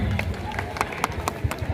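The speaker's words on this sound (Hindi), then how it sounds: "जोरदार ताली हो जाए सर के लिए।" Audience clapping for a guest being honoured at a sports festival with boxing events, a steady crowd patter with sharper individual claps standing out over a low murmur of voices.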